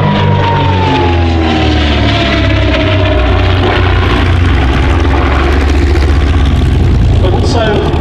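A DH.88 Comet propeller aircraft passing at the Shuttleworth air show: a loud, continuous droning engine with a gradually falling pitch, heard under someone talking.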